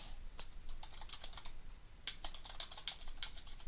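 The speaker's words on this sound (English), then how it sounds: "And then you can begin typing." Fast, steady typing on a computer keyboard, with dense light key clicks in an uneven rhythm that carry on throughout, close and fairly quiet and with no voices.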